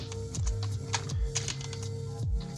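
Rapid clicking keystrokes on a computer keyboard, a steady close patter of typing over a low background hum, with no talk.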